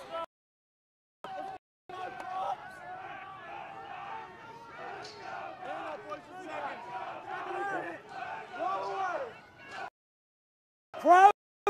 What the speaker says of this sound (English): hear the Gamecocks fans cheering